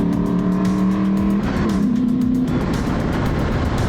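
A Ford Mustang GT V8 on a race track, its engine droning loudly and steadily up close, with pitch shifting as it changes gear, no talk heard.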